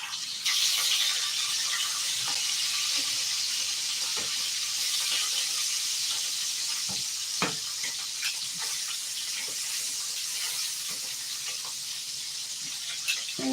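Bacon frying in oil in a pan gives a steady, dense sizzle with a hiss that runs the whole time, broken by scattered small pops and crackles, close and fairly loud.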